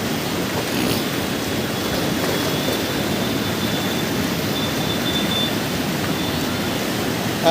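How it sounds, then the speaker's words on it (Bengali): Water surges through the opened sluice gates at Birganj in a loud, unbroken roar, a dense rushing wash that holds steady throughout. "পানির চাপ, প্রচুর পরিমাণে পানির চাপের কারণে কিন্তু বীরগঞ্জের স্লুইস গেটের গেটগুলো খুলে দেওয়া হয়েছে"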